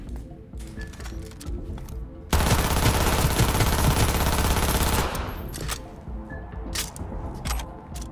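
Sustained automatic gunfire in the video game Cyberpunk 2077 bursts out loudly for about three seconds, framed by scattered single shots, clicks and game effects before and after.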